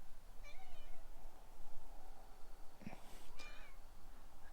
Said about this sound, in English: I see my kitty helper decided to come out for a minute.